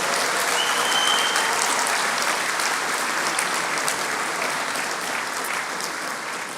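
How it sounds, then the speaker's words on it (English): Audience at a 2015 college conferring ceremony for Information Technology and Applied Science graduates breaks into sustained, loud applause mixed with cheering, a dense even roar holding steady and easing slightly toward the end. "and finally, big cheer for Niall Ryan."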